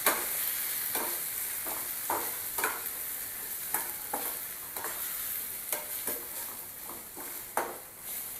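Spices with turmeric, red chilli powder and Schezwan chutney sizzle in a hot pan under a steady fry, with repeated scraping strokes of a spoon stirring the mix close by.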